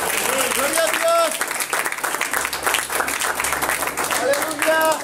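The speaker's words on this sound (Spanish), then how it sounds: "Denle un aplauso a Dios, por favor." A church congregation claps and applauds steadily throughout, with a preacher calling out loudly over the clapping and music in the background.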